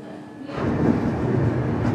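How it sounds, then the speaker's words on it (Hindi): The Lalgarh-Prayagraj SF Express pulls out of Bikaner Junction, its rumble and wheel noise rising after a quiet half second into a steady, close, broadband roar with no talk over it. "बीकानेर जंक्शन पर 20 मिनट के ठहराव के बाद अब हमारी ट्रेन यहां से निकल चुकी है।"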